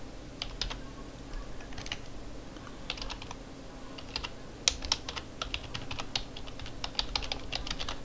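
Steady typing on a computer keyboard fills the clip, with irregular bursts of key clicks over a low room hum, close and moderately loud, and no voices.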